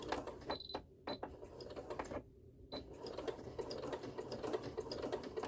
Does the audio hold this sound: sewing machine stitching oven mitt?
yes